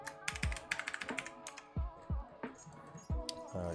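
Typing on a computer keyboard during a 3D printer modding session, a quick irregular run of close key clicks and clacks in bursts with brief pauses, no voices.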